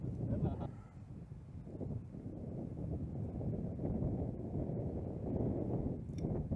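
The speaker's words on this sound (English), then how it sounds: "this wind is really kicking up for these boys now" Wind gusting steadily across an exposed hillside disc golf course in winter, a continuous broadband rush filling the whole clip at moderate level.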